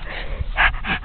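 A rescued Scottish terrier gives short breathy panting bursts and a soft whimpering yip, close and fairly quiet, two brief louder puffs standing out near the end.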